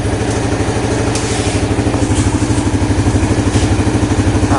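A motorcycle engine idles close by and loudly, with a steady, even chugging pulse and a metallic clatter throughout. No one speaks.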